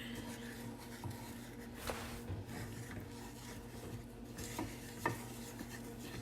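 A spoon works brown sugar into melting butter in a pan, with soft scraping strokes and occasional metallic taps over a faint sizzle and steady background hum, quiet and close.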